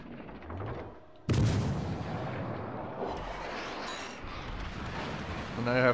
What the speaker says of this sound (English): I want to avoid the fire from the battleships